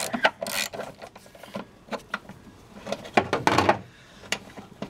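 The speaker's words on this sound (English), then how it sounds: "we've got a half inch socket and a long extension and a 3/8 inch ratchet" A 3/8 inch ratchet with a half inch socket on a long extension loosening the battery clamp on a Chevy Blazer, giving bursts of clicking and metallic rattles close by with short pauses between strokes.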